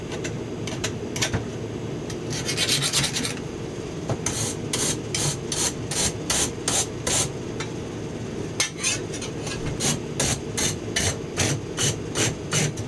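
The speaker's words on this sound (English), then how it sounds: "And a steel wire brush." A steel wire brush scrubbing a hand-made tomahawk head, a raspy rhythmic scraping in quick repeated strokes, first in scattered bursts and then in a steady back-and-forth run, close and clear.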